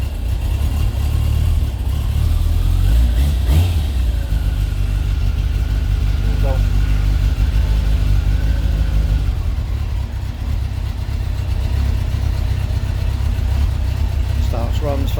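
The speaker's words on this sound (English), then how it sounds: "It's a very nice sounding bike." A 1997 Kawasaki ZZR1100 D5 motorcycle engine runs at a steady idle nearby. Its low rumble continues throughout, with a few faint voices and small knocks over it.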